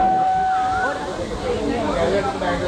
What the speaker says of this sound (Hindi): बस ट्रेन की सीटी बज रही है, ट्रेन नहीं चल रही है,